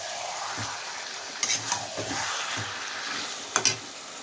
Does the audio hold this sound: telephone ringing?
no